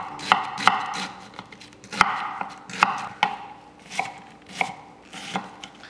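Onions being diced with a knife on a board: crisp, close chops in loose bursts of two or three strikes, about a dozen over several seconds, with no talking.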